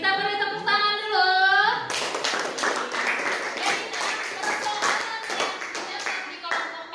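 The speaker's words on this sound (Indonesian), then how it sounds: "nah itu tadi kita beri tepuk tangan dulu" Students in a classroom clap their hands together after a voice speaks briefly at the start, giving a loud, close, brisk round of many overlapping claps that carries on to the end.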